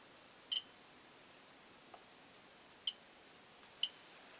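A Radioscan 701A radiation detector gives a few faint, sparse chirps: three short high clicks spread over about four seconds, plus one softer tick, over a quiet background hiss.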